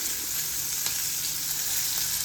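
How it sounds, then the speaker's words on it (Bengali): Fish pieces seasoned with salt and turmeric fry in hot oil, giving a steady, close crackling sizzle with a few small pops over a continuous hiss. "মাছটা ভাজা হোক"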